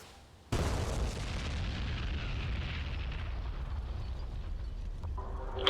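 A bomb detonating on target in a flight combat game: a sudden loud boom that cuts in after a quiet start, followed by a long rumbling, roaring decay that fades slowly.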